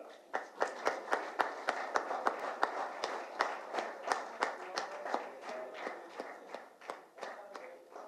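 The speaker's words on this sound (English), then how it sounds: "I just urge to keep the clapping going around." An audience claps at a football club jersey launch and hospital partnership event, a steady patter of many hands with sharper individual claps standing out, close and lively throughout.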